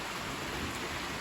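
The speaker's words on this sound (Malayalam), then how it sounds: "ചെറുതായിട്ട് മഴ പെയ്യുന്നുണ്ട്." Light rain falls steadily outdoors near a house sit-out, a soft, even hiss of drops on surfaces with no voices.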